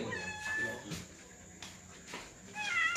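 Two cats meow in a rural Spanish-speaking home, a few close, drawn-out mewing calls with faint background noise between them.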